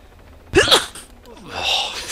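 A single loud, sharp sneeze bursts out close to the mic, followed by quieter breathing and rustling, during a German-language Arma 3 King of the Hill match on the Pyrgos map.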